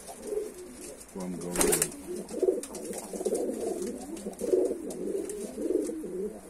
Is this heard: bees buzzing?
no